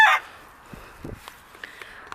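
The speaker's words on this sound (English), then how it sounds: "Leave mommy's chickens alone." Backyard homestead chickens make a few faint, scattered clucks and short calls after a brief louder squawk at the start, with quiet gaps in between.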